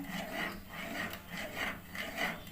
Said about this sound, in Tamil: ஊற்றி விட்ட உடனே நல்லா கிண்டிக்கிட்டே இருங்க